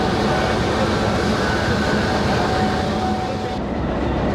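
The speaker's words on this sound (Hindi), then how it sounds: "दोस्तों अब लोकोमोटिव अपना रुख तब्दील करने के लिए जा रहा है" The locomotive of the Bulleh Shah Passenger train in Pakistan moves along with a loud, steady rumble and rattle, joined by a faint high whine near the end.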